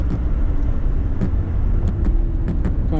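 A Lamborghini Gallardo LP560-4 drifting on a cone-marked course gives a loud, rough, continuous engine roar with rumbling low tones and brief sharp crackles.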